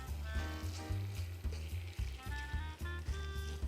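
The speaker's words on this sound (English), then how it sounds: "when the butter is soft, you can put the meat inside" Minced meat sizzles in soft butter in a pan, a close, steady frying crackle broken by rhythmic scraping stir strokes, with no talking.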